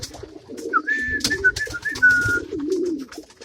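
Pet pigeons or doves cooing in a backyard coop, a close, loud run of soft rolling coos with a few higher chirps, no voices.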